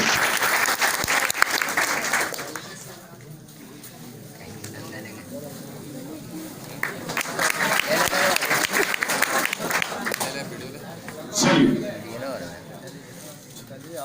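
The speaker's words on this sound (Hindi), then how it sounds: "एक बार जोरदार ताली हो।" Audience applause at a coaching class prize ceremony in Hilsa, Nalanda, with clapping swelling and fading across the span, sharper bursts near the middle and a loud peak near the end, mixed with voices talking.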